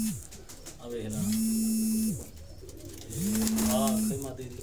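Breeder pigeons in Faisalabad coo close by, two long droning coos with a pause between, over a faint background hum.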